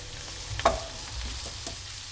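Ingredients for pizza rice warm together in a hot pan with a low, steady sizzle and one sharp scrape or clink of a utensil near the start.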